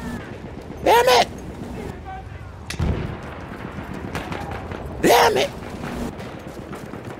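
First-person shooter game gunfire on Xbox One, two loud sharp bursts a few seconds apart with smaller shots between, under a player talking throughout.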